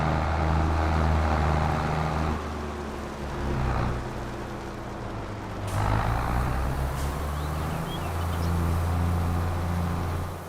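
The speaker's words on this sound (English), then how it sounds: "Let's hop in our Case Magnum here with the grain cart on it" Engine of a Case Magnum tractor pulling a J&M grain cart in a farming game, a steady low diesel drone with shifting pitch and a couple of brief clicks, no talk.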